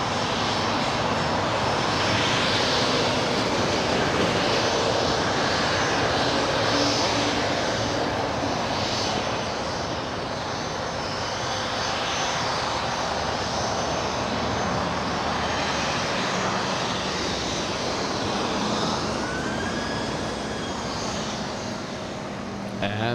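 A NetJets jet landing at LAX roars steadily and loudly for the whole stretch, a broad sustained engine rumble with a slowly shifting tone and no break.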